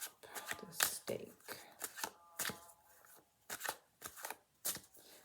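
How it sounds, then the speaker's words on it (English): A deck of tarot cards is shuffled in a run of crisp, quick riffles and flicks, close and fairly loud, with short pauses between bursts. "I'm going to put this over here so I can shuffle properly."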